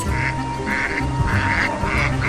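Ducks on a farm quacking loudly and close, in a rapid repeated chorus of calls over a continuous background of other noise.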